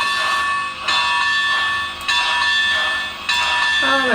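Model train locomotive bell under JMRI control, rapid repeated metallic dings ringing steadily and loudly in a continuous pattern across the clip.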